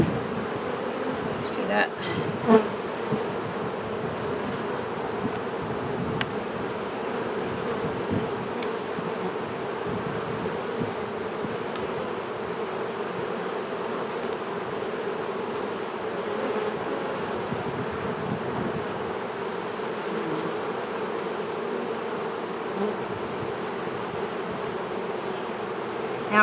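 A honeybee colony hums in a continuous, dense buzz from an opened top-bar hive as bars are pulled, with a person speaking briefly over it.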